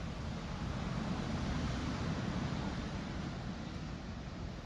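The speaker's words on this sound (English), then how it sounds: "listening to the waves crash" Ocean waves crash onto a Melbourne, Florida beach in February, heard from a hotel balcony as a continuous, fairly loud rumbling surf with steady low wash and no voices.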